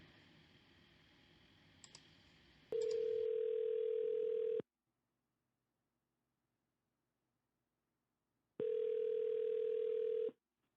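A telephone line plays a steady dial or ringback tone in two long bursts separated by silence, preceded by faint clicks, as a call to private investigators is placed.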